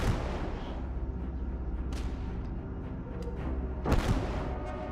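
Artillery barrage fired for effect in a World War II Kursk battle game, heard as a continuous low rumbling of distant guns with a few sharper booms standing out above the steady roar.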